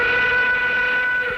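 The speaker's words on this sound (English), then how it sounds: "All aboard, the night train now boarding." A train whistle sounds a long, steady, loud chord over the rolling of a train, a sound effect announcing a night train.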